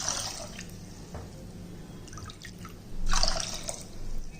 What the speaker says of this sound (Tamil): இப்போ அதே கப்பில் இப்போ 2 கப்பு தண்ணி ஊற்றிக்கிடுவோம்.